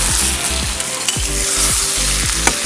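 Onions fry continuously in a pan, making a loud, close, steady sizzle, with periodic scraping strokes as they are stirred. No voices are heard.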